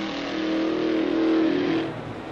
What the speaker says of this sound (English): Following him onto the track is Jim Hurtubise in the famous Novi supercharged V8.